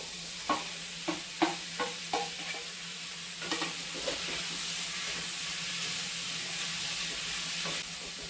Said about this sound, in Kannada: ನೋಡಿ ಇವಾಗ ಚೆನ್ನಾಗಿ ಫ್ರೈ ಆಗಿದೆ. ಇವಾಗ ಟೊಮೊಟೊ ಮತ್ತು ಸೌತೆಕಾಯಿನ ಹಾಕೊಳ್ಳೋಣ